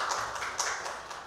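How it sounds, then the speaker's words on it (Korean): A church congregation claps together for a young member's birthday, a steady patter of many hands at moderate distance with no one speaking over it. "박수하겠습니다."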